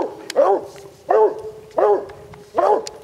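Hunting dogs bark at a female lion treed in the wild, four evenly spaced loud barks about a second apart, close by, with no voices in between.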